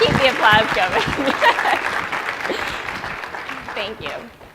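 Audience applause fills a talk on impact storytelling: a steady, dense wash of clapping from a crowd, moderately loud, gradually thinning toward the end, with a voice speaking over it.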